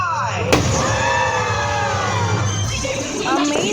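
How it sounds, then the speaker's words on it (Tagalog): Fireworks display at Enchanted Kingdom theme park during a birthday celebration: a sharp burst near the start, then a continuous crackling, whistling wash of bangs with crowd noise underneath, steady and fairly loud throughout. "Amazing fireworks experience."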